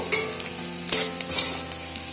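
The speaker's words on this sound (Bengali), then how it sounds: "পেঁয়াজগুলো ভাজা হয়ে গেছে।" Onions frying in oil, with a soft sizzle and a few scraping, clinking stirs of a utensil in the pan.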